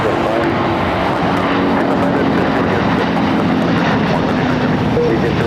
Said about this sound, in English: But I'm really interested in that second 747 that I announced